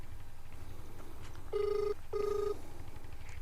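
A telephone rings indoors, two short electronic ring bursts of about half a second each, separated by a brief gap, over a low steady background hum.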